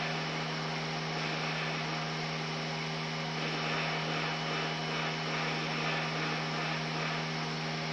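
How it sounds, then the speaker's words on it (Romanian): A computer fan hums loudly and steadily during a multiplayer MTA gaming session on a hot day, a constant droning whir with a mains-like hum and no pauses. "Se aude ventilatorul meu urât?"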